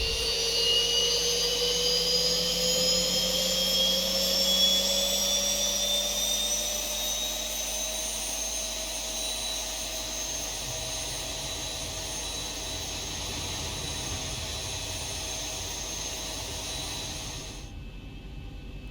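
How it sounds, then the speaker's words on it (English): Airliner engine number 2 spooling up in X-Plane 11, a steady jet whine with rising tones and a broad roar that holds loud and close throughout, ending abruptly. "There comes engine number 2."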